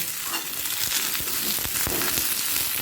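Cauliflower and potato fry in oil in a pan, a steady close sizzle with occasional stirring scrapes, no talk.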